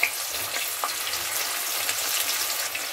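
Mochai beans frying in hot oil with a steady, dense sizzle and crackle throughout, close and continuous with small pops and faint stirring scrapes.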